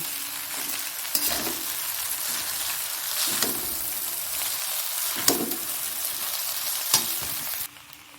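Yellow chow mein frying in a pan, loud continuous sizzle broken by several scraping stirs at regular intervals, close and without talk, cutting off abruptly at the end.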